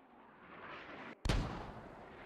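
A single mortar round from the military shooter Squad lands with a sharp, deep boom after a short hush, its rumble decaying slowly over a low background of wind and distant battle.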